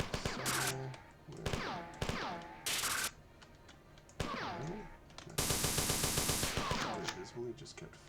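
Enemy gunfire in the retro shooter game Marathon: rapid bursts of automatic fire in separate volleys, with short gaps and a longer sustained barrage near the end, over a faint game background with no talking.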